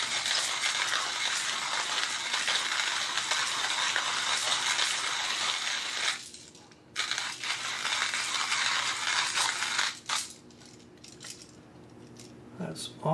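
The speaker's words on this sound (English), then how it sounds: "So I've definitely got an espresso type grind working here because it's pretty fine." A Triple Tree electric coffee and spice grinder grinds coffee to espresso fineness, a loud steady whirring buzz that stops briefly around midway, then resumes before winding down into scattered rattles.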